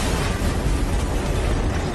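A loud, sustained explosive roar with heavy low rumble fills the whole moment, dense and unbroken like a big blast and its aftermath, from a house exploding in a movie.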